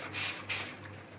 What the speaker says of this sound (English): So I'll just mist that over, not on the surface, but I'll mist it over for you